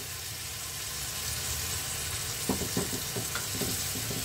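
Spiced long beans sizzle in a pan over a high flame as water is added, a steady frying hiss with a few sharp spatters and stirring scrapes toward the end.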